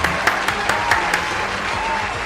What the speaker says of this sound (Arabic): تصفيقة.